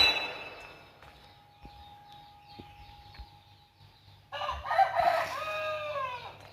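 A rooster crows loudly and close by in a Thai outdoor setting, one long cock-a-doodle-doo rising after a quieter stretch of faint ambient noise and scattered knocks.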